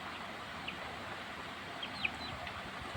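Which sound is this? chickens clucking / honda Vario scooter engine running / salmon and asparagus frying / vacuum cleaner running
chickens clucking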